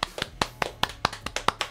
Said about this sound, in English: I think if you go like this, it sounds like a lot of claps